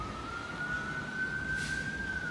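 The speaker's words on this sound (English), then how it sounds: "There's the sirens." A single emergency vehicle siren wails in a long, slowly rising tone. It sounds faint and distant over a steady outdoor background rumble.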